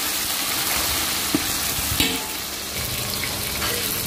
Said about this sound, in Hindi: गोल्डन होने लग गया है, हमें पूरा गोल्डन करना है इसे। कांदा लाल हो गया है, गोल्डन का है। तो इसे हम नरम होने तक पकाएंगे।